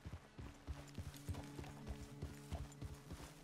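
Rhythmic hoofbeats of a horse in Red Dead Redemption 2 clip-clop at a steady walking pace, fairly quiet, with faint creaking and mechanical clicks underneath.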